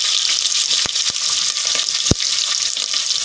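Curry leaves, chillies, sesame seeds, mustard and cumin fry in hot oil for Gujarati patra, giving a loud, continuous sizzle with a few sharp pops and crackles spaced through it.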